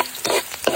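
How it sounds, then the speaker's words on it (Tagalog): Onions and garlic in hot oil sizzle in a pan while a spoon stirs them in a few short scraping bursts, close and fairly loud with no talking. "init na itong ating mantika at ilalagay na natin itong ating sibuyas"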